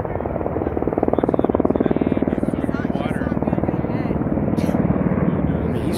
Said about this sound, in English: it's really dangerous for these helicopters to go into that smoke